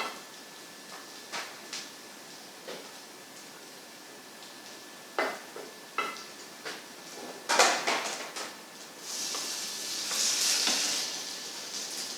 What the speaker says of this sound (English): we're frying the last one